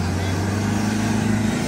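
A 4x4 off-road vehicle at an offroading event in Islamabad, its engine droning at full throttle in a loud, steady low roar, with voices talking over it.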